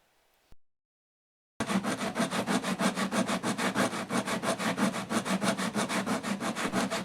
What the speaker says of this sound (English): with the nature of the filler it makes it very easy to sand or scrape down, as you can see here